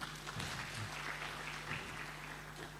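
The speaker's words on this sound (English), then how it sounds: "Round of applause again." Steady applause from a conference audience fills the space, a continuous wash of clapping at moderate volume.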